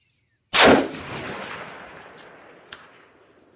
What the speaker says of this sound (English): Let me shoot a shot here with the recoil.